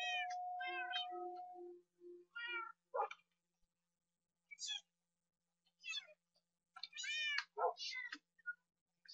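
Minecraft cats meowing in a game, several short high mews and chirps in quick scattered bursts, clear and close with silent gaps, plus a few tonal game beeps at the start.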